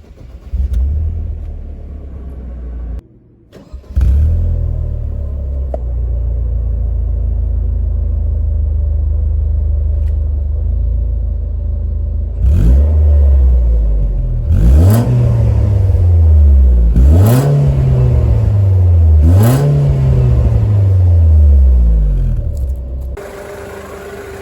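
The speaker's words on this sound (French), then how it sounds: "je vais vous la démarrer pour entendre un petit peu le moteur" A supercharged Mercedes-Benz SLK R170 AMG roadster engine starts, then settles into a steady loud idle before several sharp throttle blips rev up and fall back, heard close with no talk.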